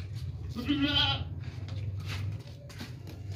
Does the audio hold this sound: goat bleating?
yes